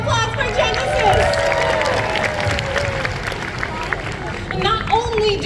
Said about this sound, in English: Round of applause for Genesis!